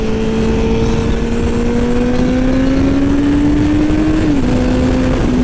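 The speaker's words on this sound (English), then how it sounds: "Do a little second gear kind of pull" A 2018 sport motorcycle pulls hard in second gear on a road with some car traffic, its engine tone climbing steadily and loud for several seconds before a brief dip as the revs shift, continuing under steady wind rush.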